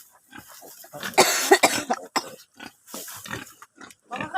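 Wild boar grunting in short rough bursts at close range, several snorting calls spread across the moment with quiet gaps between them.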